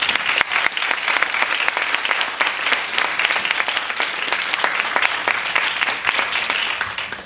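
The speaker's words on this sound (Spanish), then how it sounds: "Creo que se merecen otro aplauso, ¿no?" An audience applauds the reflections of speakers at a talk on care work and married or partnered girls and adolescents. The clapping is steady, dense and continuous for about seven seconds before tapering slightly at the end.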